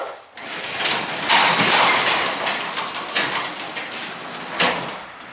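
A broadband rolling rumble sustained for several seconds, with rattling swells and a brief surge near the end, as a two-spring garage door, just fitted with a replacement spring, rolls up along its track.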